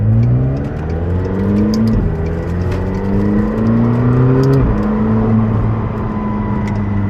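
A McLaren 720S sports car cruising the Pacific Coast Highway gives a loud, continuous engine drone from inside the cabin, its pitch rising and falling through gear changes, with no talking.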